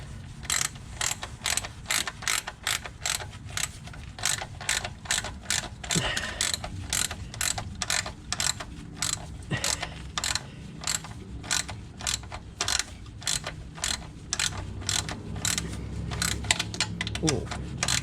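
A hand ratchet clicks steadily in rapid, evenly spaced bursts while tightening bolts during installation of a B&M shifter in a Pontiac Grand Prix, close and continuous throughout with only brief pauses.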